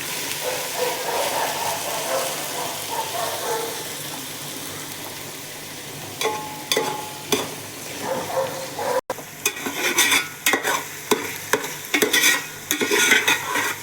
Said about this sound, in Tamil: ஃபுல்லாக எல்லா சைடில் மிக்ஸ் பண்ணிவிட்டு ஒரு 5 நிமிஷம் லோ ஃப்ளேமில் வச்சாலுமே பெட்டர்